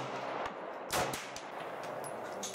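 Pistol shots at a shooting range, aimed at a target about 30 feet away: several sharp, loud cracks in an irregular sequence over steady background noise.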